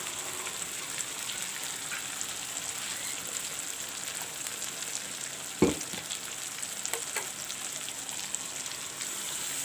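Ground onion paste frying in a pan for chicken curry gravy gives a continuous close hissing sizzle, with a single clank of a utensil midway.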